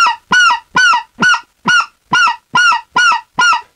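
A goose call lure, blown by hand, imitates goose honks in eight sharp, evenly spaced, loud calls with clean pauses between them and no talking.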